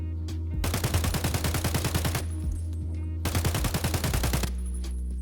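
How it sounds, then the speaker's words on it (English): An AK-74 firing 5.45 ammo on the shooting range in Escape from Tarkov, two loud, rapid full-auto bursts separated by a short pause, close and dominant. "So the first gun we'll be trying out is the AK-74."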